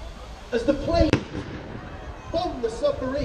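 A single sharp bang stands in for planes bombing a submarine in a staged outdoor naval battle show, cutting through a commentator's voice that continues around it.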